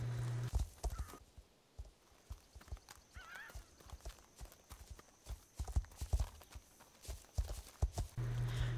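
A horse under saddle walks around an arena with steady, evenly spaced clip-clop hoofbeats throughout, close and clear, and a brief whinny is heard along the way.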